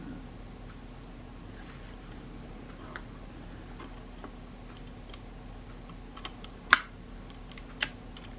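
A vintage Kodak Retina IIa camera shutter, cocked and fired at 1/500, gives two sharp, close mechanical clicks with a pause between them over a faint hum.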